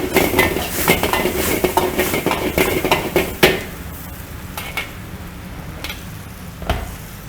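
A wok of mapo tofu is stirred and pushed with a metal spatula before serving: rapid clinking scrapes and soft sizzling that thin out into a few sparse knocks, with no voices.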